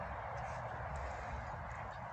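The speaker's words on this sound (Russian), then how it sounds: "Там уточки мои гуляют." Domestic ducks wander about a rural backyard garden, giving faint, soft quacks and honking calls over a low outdoor hum.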